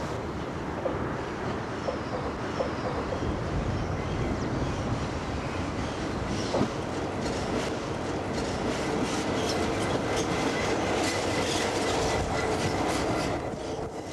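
A Simplex diesel locomotive runs with a continuous rumbling engine drone and rail clatter, steady and fairly close, with faint clicks and a brief squeal-like tone along the way.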